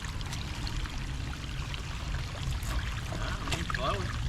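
Steady, close rushing of creek water flowing and trickling, continuous and fairly loud, with faint voices underneath.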